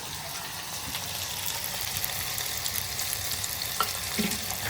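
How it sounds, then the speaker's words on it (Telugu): Onions and green chillies frying in hot oil in a pan, giving a steady close sizzle and crackle that runs throughout with occasional stirring scrapes. "ఆయిల్ కాగింది ఉల్లిపాయలు పచ్చిమిర్చి వేసుకున్నాను"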